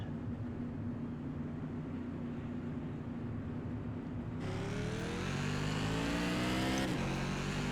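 A NASCAR Tour Modified race car engine in the iRacing game drones at steady revs, then roars louder and climbs in pitch as it accelerates hard off a corner, with one brief gear change and no talking.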